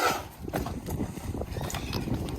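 A horse moves about nearby on a cold winter day, with scuffling hooves, thumps and rustling in a busy, noisy stretch with no clear voice.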